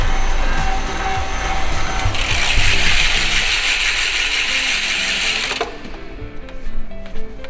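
A Tongsheng 750W mid-drive motor on an e-bike runs with a loud, steady mechanical whir and a ratcheting gear buzz that brightens in the middle of the run and then settles back down.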